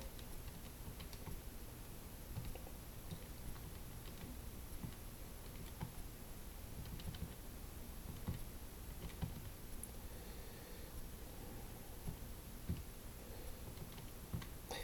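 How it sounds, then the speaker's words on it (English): Quiet, rapid tapping of calculator keypad buttons, a steady run of small plastic clicks close by with brief pauses, no talking. "So let's just type all that in one go on my calculator."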